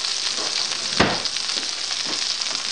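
A pan of browned lamb patties hisses with a dense, steady sizzle, close and loud, with one sharper burst as the pan is pulled off the heat; no one speaks.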